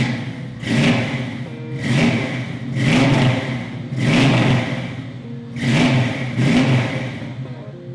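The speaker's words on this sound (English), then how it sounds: "how about I fire it up for you so you can hear what it sounds like" A 1969 Chevrolet Camaro SS 350 V8 engine revs hard in about five loud, close bursts, each rising and falling back to a rumbling idle.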